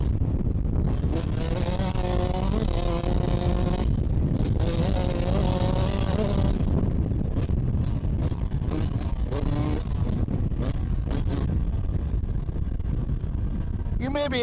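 A 2020 Yamaha YZ125X two-stroke dirt bike revs and rides out in the desert, its engine pitch rising and falling in steady surges close by, with a voice talking over parts of it.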